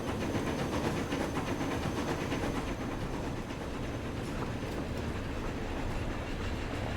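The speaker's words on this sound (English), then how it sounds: "We can take a look at this nice new train." A passenger train on the Chatham to Stourbridge line in the game Transport Fever 2 gives a steady rolling rumble with rhythmic clickety-clack, constant and fairly close throughout, with no talking.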